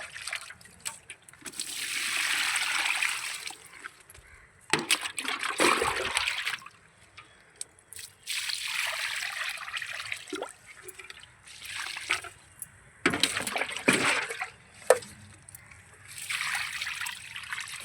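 Old porridge water splashes and trickles out of a 5 kg tub onto tomato plants in a garden, arriving in several separate pours with quiet gaps between them.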